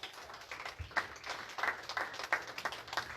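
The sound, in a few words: audience applause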